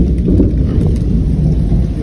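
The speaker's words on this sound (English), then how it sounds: "You heard that? It's raining." Steady rain pours down with low rumbles of thunder rolling underneath, a dense continuous wash of sound close by.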